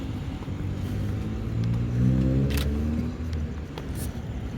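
A car approaches at night outside buildings, its engine rumble swelling and passing at moderate distance, with a couple of sharp clicks that may be a camera shutter and no speech.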